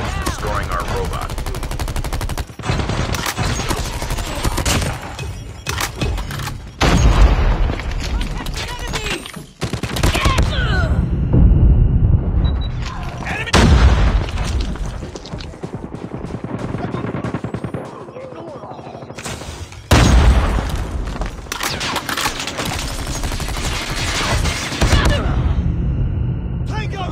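Call of Duty: Mobile battle in the Safeguard mode: repeated bursts of automatic gunfire and booming explosions, loud and dense, broken by brief lulls, with game voice callouts mixed in.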